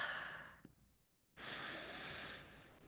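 A quiet breath taken during a pause in French speech: a soft breathy exhale, then near silence, then a longer, steady breathing sound, all close to the mic and faint.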